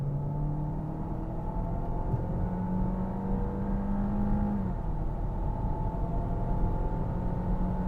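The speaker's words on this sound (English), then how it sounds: "Or is it just like a resonator, somewhere in the engine bay to give me more induction noise?" A 2024 Peugeot 408 GT's engine hums steadily with induction noise from inside the cabin as the car accelerates, a droning tone whose pitch climbs and then drops as the car shifts gear.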